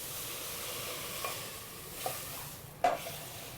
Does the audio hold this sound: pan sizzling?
yes